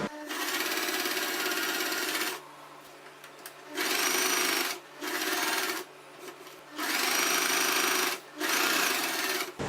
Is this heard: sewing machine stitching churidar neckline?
yes